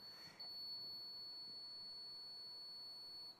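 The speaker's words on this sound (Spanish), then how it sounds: "Podemos observar ese pitido prolongado con una indicación del nivel de tensión." A hybrid vehicle battery voltage tester gives a single prolonged, steady beep at a 250-volt reading, starting after a brief blip and holding evenly for about three seconds, faint against a quiet room.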